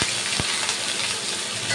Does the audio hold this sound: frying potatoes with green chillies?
yes